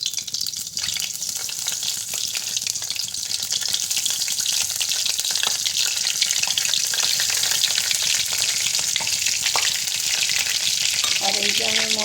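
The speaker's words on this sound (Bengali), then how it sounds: "ফোড়নের জন্য আমি কালো জিরা আর একটু কস্তুরি মেথি পাতা নিয়েছি, সেইটা আমি দিয়ে দেব।" Black cumin and dried fenugreek leaves crackle and sizzle steadily in hot oil in a pan, a dense, loud frying hiss that runs the whole time with no talking.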